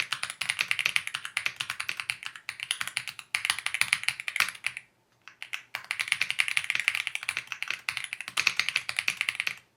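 Steady typing on an AULA F75 Pro mechanical keyboard fitted with Leobog Reaper linear switches: quick, close-up, muted clacks in continuous bursts, with one brief pause midway.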